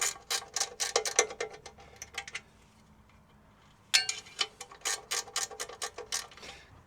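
Bolt being run by hand into a powder-coated thread while fitting an SW Motech bash plate to a Royal Enfield Himalayan 411, giving quick bursts of close ratcheting clicks, a pause of quiet, then another run of clicks.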